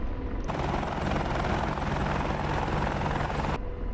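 An Apache attack helicopter in the DCS World combat flight simulator orbits over a small town guarding a convoy, its rotor producing a loud, continuous dense thrum with steady blade chop that holds throughout.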